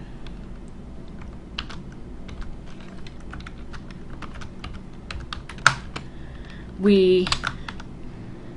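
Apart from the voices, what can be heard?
typing a factor command on a computer keyboard in Maple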